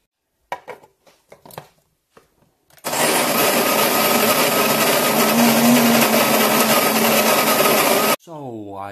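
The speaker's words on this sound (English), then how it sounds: "So I'll go and put these in the grinder now." Coffee grinder chewing through Guatemalan coffee beans: a few light clicks and rattles of beans going in, then a loud, steady whirring grind for about five seconds that stops abruptly, followed by a brief winding-down tail.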